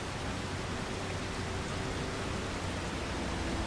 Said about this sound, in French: Il s'est mis à pleuvoir.